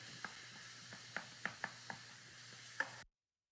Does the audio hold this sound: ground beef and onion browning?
yes